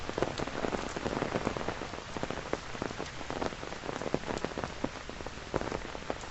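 Heavy typhoon rain pours on Victoria Peak in Hong Kong, a dense, steady hiss of drops pattering close on a surface, unbroken and without voices.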